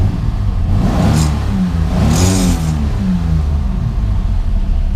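A 1969 Dodge Dart Swinger with a 225 engine and four-speed idles with a steady low rumble through a stock-type muffler and is revved twice in quick succession, the exhaust staying fairly moderate and never loud.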